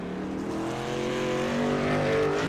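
A race car at Watkins Glen comes down the front straight into turn 1 and brakes late, its engine a loud, steady drone with shifting pitch that swells slightly toward the end.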